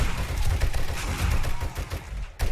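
Sustained M60 machine gun fire in the survival game 7 Days to Die during a horde night, a dense rapid stream of loud shots running almost unbroken, with a brief pause near the end.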